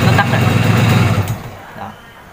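A Simson S51 motorcycle engine idles loudly up close, then cuts out about 1.3 seconds in and fades to near silence, with a faint thump after.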